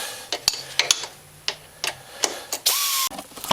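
A 14mm bolt head and 17mm nut are tightened on a Honda Rancher 420 lift kit, giving a sequence of sharp metallic clicks and clinks up close, ending in a brief squeaky ratchet-like burst.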